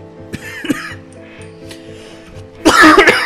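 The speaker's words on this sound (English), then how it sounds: "I don't know why I'm coughing all of a sudden" A person coughs and clears the throat, a few short bursts early on and then a louder, harsher cough fit at the end, alone with no speech.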